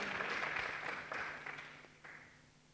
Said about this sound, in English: let's give him a round of applause as he comes forward